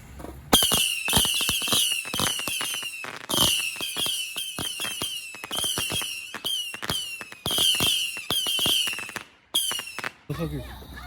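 Fireworks set off at night on New Year's near a gas station: a dense run of loud, close crackling bursts and whistling shrieks that repeat in volleys for most of the clip and cut off briefly near the end.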